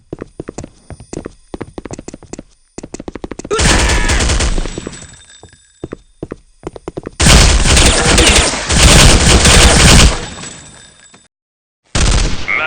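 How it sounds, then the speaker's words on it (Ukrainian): Gunfire in Counter-Strike: Condition Zero Deleted Scenes comes in loud, dense automatic bursts alternating with sparser clicks and shots, very close, with brief silent gaps. "обстрілює снайпер з того балкона на подвір'ї"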